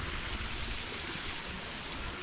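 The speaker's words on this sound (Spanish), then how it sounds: "siempre está a correr agua limpia" Clean stream water runs steadily in a natural setting in Madeira, Portugal, a continuous close broadband rush with no voices.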